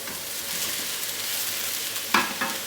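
Mushrooms dropped into a hot wok with onions for a beef sauté, a steady close sizzle and hiss of frying with a couple of sharp stirring clatters near the end.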